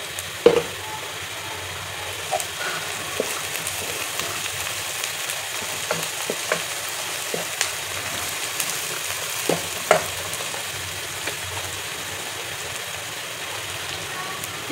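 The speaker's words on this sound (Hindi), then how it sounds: "ये 2 प्याज इसमें डाल देंगे। और इसे लाइट ब्राउन करेंगे प्याज को।" Two onions fry in oil for a dal chana tarka, holding a constant, even sizzle with scattered small pops and clicks at moderate loudness throughout.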